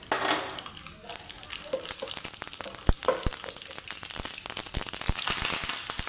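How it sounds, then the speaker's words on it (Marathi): Mustard seeds sizzle and pop in hot oil for a tempering for khaman dhokla, with a steady frying hiss and many sharp crackles and pops scattered throughout, close and fairly loud. "फोडणी करून घेऊया. सगळ्यात आधी घालूया आपण याच्यामध्ये मोहरी"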